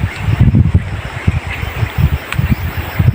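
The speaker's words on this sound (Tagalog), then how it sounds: "lakas ng hangin" Strong gusts buffet the microphone in low, irregular rumbling bursts, loud and close, with no speech.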